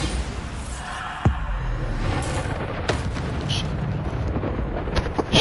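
Bombarda explosive spell blast in the Hogwarts Legacy game, a sharp booming impact followed by rumbling crackling debris and lighter blasts, loud and close with no talking.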